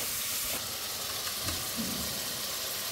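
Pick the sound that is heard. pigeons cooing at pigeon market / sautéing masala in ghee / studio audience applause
sautéing masala in ghee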